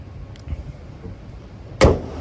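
A 2023 Hyundai Elantra 2.0 automatic shuts with one solid, close thud after a couple of quiet shuffling sounds.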